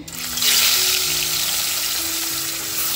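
Three fish fry in hot oil in a pan, a loud steady sizzle and crackle that swells after a moment and holds, close and with no talking.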